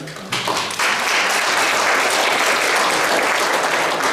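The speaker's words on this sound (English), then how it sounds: "That definitely deserves a round of applause" A talk audience at a mental health event breaks into applause for a speaker: a few sharp early claps quickly swell into loud, dense, sustained clapping from a full room, with no voices over it.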